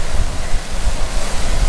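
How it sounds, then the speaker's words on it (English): A Scottish Highlands waterfall gives a loud, continuous rushing roar of falling water, broad and steady, close by, with no voices. "we've now come to some more part of the waterfall."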